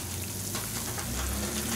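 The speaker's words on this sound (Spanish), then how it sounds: "Vamos a esperar que se fría bien." Picarones, rings of dough, frying in hot oil, giving a steady, close, dense sizzle and crackle like light rain that continues without a break.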